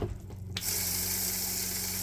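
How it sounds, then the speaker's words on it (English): Water pump pushing water into a toilet bowl after a half flush, a sudden start to a loud, steady rushing hiss of water with a low vibrating pump hum underneath. "That's the pump pushing the water in."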